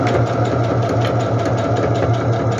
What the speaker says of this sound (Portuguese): E inicio a costura com um retrocesso.